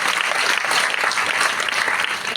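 Warm, sustained applause from a crowd at a Mi Lifestyle marketing event, even and unbroken for the whole stretch, fairly loud and filling the room with no voices over it.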